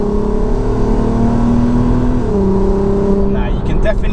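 Mapped 275 bhp MK5 Volkswagen Golf R32 V6 engine accelerating from inside the car, a loud steady drone climbing in pitch through a gear, then a shift and another rising pull.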